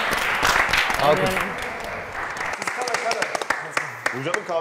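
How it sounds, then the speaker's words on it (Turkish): A studio audience bursts into applause that starts full and fades into a few trailing claps, with people talking over it as the noise thins. "Alkış."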